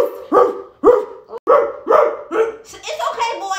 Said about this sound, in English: you got my dog barking because you're not being honest